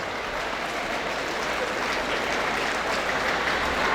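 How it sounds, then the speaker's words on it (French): An audience at a graduation ceremony applauds a laureate, with dense, sustained clapping that holds steady and slightly swells toward the end. "Il faut applaudir petit frère Réginal."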